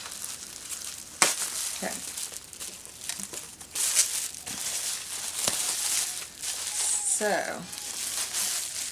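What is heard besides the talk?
opening a crystal mystery box package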